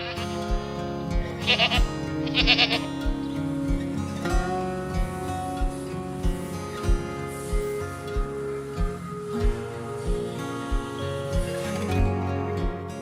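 Sheep on a farm bleat again and again, close and loud, over a steady mechanical clatter that ticks in a regular rhythm throughout.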